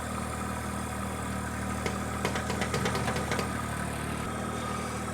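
A subcompact tractor engine idles close by as a steady low rumble, with a short run of light clicks and knocks partway through; no one speaks.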